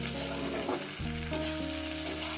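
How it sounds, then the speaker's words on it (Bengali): Snake gourd with egg frying in ghee over a medium gas flame, with a soft, close sizzle and stirring under a steady low humming tone. "একটু এই নরম নরম ভাজলে খেতে ভালো লাগে আর একদমই ভাজবো গ্যাসটাকে মিডিয়ামে রেখে"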